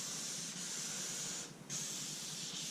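Wet sanding of car clear coat gives a steady, close hissing rub, with a brief dip midway where the stroke pauses and then picks up again. No one speaks.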